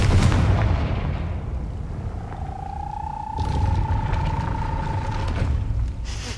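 A Confringo fire spell from Hogwarts Legacy blasts open with a loud boomy burst, then a sustained whistling tone hangs for a few seconds before a second rumbling impact swells up, all within a continuous game soundscape.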